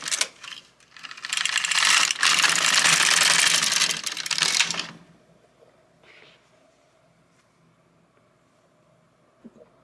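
An LK150 knitting machine carriage is pushed across one row, making a loud ratcheting, clattering sweep for about five seconds before it stops, with a few faint clicks after.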